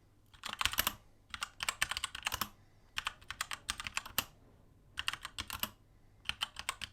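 Bursts of rapid mechanical keyboard typing with red switches, clicky and close, arrive in short runs separated by brief pauses, with no talking.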